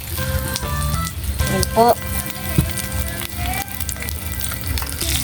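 Two dried tuyo fish are set into a kawali and fry with a steady crackling sizzle beneath close, continuous talk, with a few clanks of the pan and utensils along the way.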